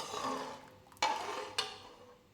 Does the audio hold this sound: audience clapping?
no